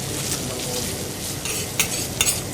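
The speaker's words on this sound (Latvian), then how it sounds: "Šo te pannu mēs te pataupam un uz šīs te pannas apcepam" Almonds fry in a pan and are stirred, giving a steady, close sizzle with occasional scraping clicks of a utensil against the metal.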